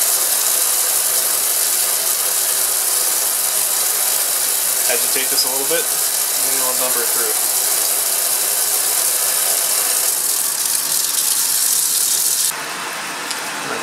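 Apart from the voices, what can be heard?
vacuum pump running for vacuum filtration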